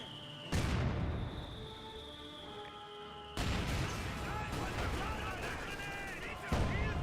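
An artillery barrage in the strategy game Company of Heroes 2 gives heavy booming blasts, one near the start, a dense burst of repeated explosions and gunfire midway and another hit near the end, ringing tones between.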